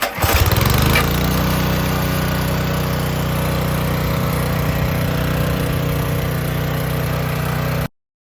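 A pressure washer engine starts up after a short cranking burst and settles into a loud, steady, close running drone that holds until it cuts off abruptly near the end.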